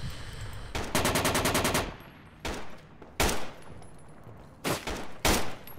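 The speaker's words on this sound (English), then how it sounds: "Oh shit, I'm taking fire." Gunfire in the video game Project Reality on the Goose Green Falklands map: loud bursts of rapid automatic fire, one long burst followed by several shorter bursts and single shots, sharp and close.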